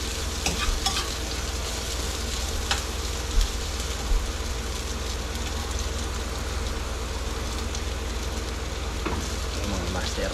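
Ginger, garlic and lemongrass crackle in hot oil, a dense steady sizzle with a few stirring knocks against the pan, loud and close.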